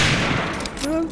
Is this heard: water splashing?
no